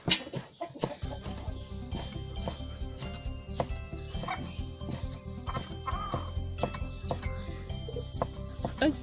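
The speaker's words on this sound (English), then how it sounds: "there are so many chickens here that are making noise" Chickens cluck steadily in a village yard, a busy, continuous mix of clucks and calls with other animal noises and a possible barking dog.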